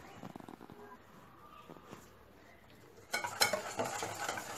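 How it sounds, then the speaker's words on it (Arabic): Flour, water, oil and salt batter for pastilla sheets being whisked hard in a bowl, first soft scattered clicks, then a loud, rapid, continuous beating that swells near the end. "كنضربها مزيان"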